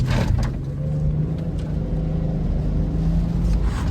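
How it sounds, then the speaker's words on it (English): BMW 540i engine pulling away hard from an alignment shop, a loud steady low rumble sustained throughout with faint broadband road and wind noise above. "From the alignment shop, I'm doing a little launch for you guys."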